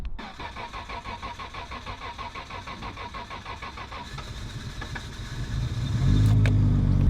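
A Nissan R32 GTR engine with a new resonator exhaust cranks with a rapid rhythmic whirring, then catches and settles into a deep, loud, throaty idle.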